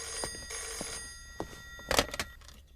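Telephone bell ringing in a household, with repeated bursts of ringing set against quiet background noise and a few faint knocks, at moderate level with no speech.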